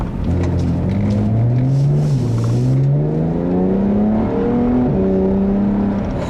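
A 2013 BMW 335is with a twin-turbo six-cylinder engine accelerating hard, its engine note climbing steadily through gears with a brief dip at each shift, loud and continuous from inside the car.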